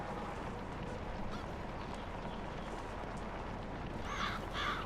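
Crows in a console farming game give two short caws near the end, fairly faint above a steady wash of outdoor ambience.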